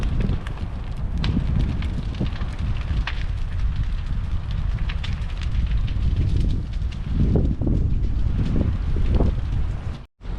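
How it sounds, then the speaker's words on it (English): Strong wind blows steadily around an outdoor fire burning outside a pit, a continuous loud rushing roar with gusty swells and buffeting against the microphone. "with this wind starting to blow"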